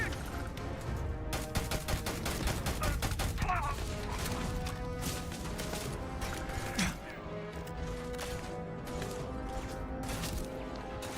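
Rapid, continuous turret gunfire in Starfield: Shattered Space, a steady stream of mechanical shots layered over game music and ambience, moderately loud throughout.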